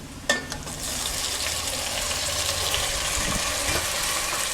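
Tomatoes hitting browned onions in a hot pan for dal makhani set off a sharp splash, then a steady, loud broadband sizzle with faint stirring scrapes throughout, no voices.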